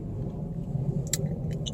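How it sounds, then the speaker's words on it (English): Cars rolling past along a road by a beach, a low steady rumble of traffic at middle distance with a few faint higher clinks and hisses near the end. "I don't know if you can see all the cars going by."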